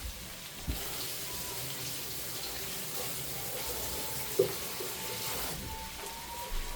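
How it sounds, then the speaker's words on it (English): Running tap water pours steadily into a sink while sausages are rinsed, a constant hiss with a couple of small knocks and clunks. "And yes, I rinsed them."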